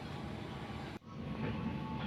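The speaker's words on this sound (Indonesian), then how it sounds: "Brantas New Generation diberangkatkan dari stasiun Kediri menuju pemberhentian terakhir di stasiun Senen, Jakarta" Brantas New Generation passenger train departing Kediri station, heard as a steady low rumble of rail movement with a brief drop near the middle, then continuing at moderate level.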